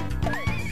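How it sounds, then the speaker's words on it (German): A horse in the video game Mystical Ninja 2 Starring Goemon gives a short, close, rising and falling neigh, heard alone. "So, jetzt können wir nämlich hier dieses Pferd benutzen."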